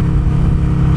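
A Harley-Davidson Sportster 1275cc engine with a Vance and Hines Comp S exhaust revs on a dyno, a loud, close, sustained throaty roar.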